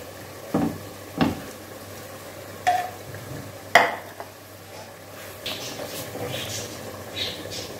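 Marinated chicken cooking in a pan, with a steady sizzle and frying hiss under repeated clanks and scrapes of a utensil stirring against the pan, the sizzle growing denser toward the end.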